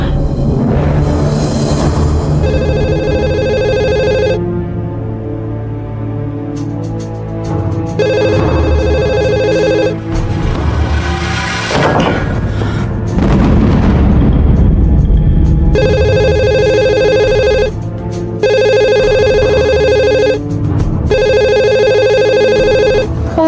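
A telephone rings repeatedly in bursts of electronic bell tones, loud and close, with short pauses between rings and some background noise in between.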